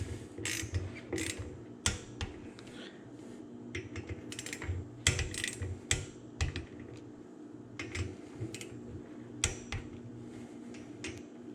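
Torque wrench tightening bicycle brake rotor bolts in an alternating pattern, a faint series of scattered metallic clicks and ratchet ticks over low background hum, close and without talk.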